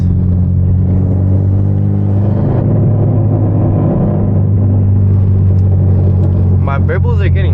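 Manual Genesis Coupe with a loud exhaust and turbo doing donuts in winter gives a deep, continuous low engine rumble, loud and close, with a voice heard near the end.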